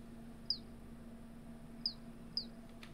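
Birds chirp in the video game Seasons: A Letter to the Future, three short, high, isolated chirps spaced apart over a low, steady background hum, fairly faint and with no voices.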